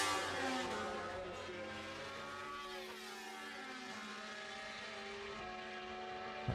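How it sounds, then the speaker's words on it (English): A BMW race motorcycle with over 200 horsepower pulls away down the straight during a classic bike festival race, its engine a sustained, tonal whine whose pitch climbs and shifts, moderately distant and steady. "that BMW 200 plus horsepower is pulling away down the straight here"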